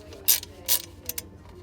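Screws fitted into the mounting holes of a quilting robot's motor bracket, giving a few short, close metallic clicks and ratcheting ticks in quick succession, with no voices.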